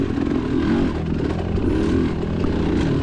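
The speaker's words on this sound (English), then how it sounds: "Bike's running great." A Kawasaki KX motocross bike races at a Vet C cross-country event at The Holler in Clay City, Kentucky, its engine droning steadily and loudly with a rough, continuous rumble and no speech.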